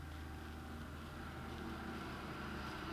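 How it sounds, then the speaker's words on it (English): A John Deere tractor drives past outdoors, heard as a faint, steady low engine drone that stays at an even level throughout. "There's a tractor going past by the sound of it."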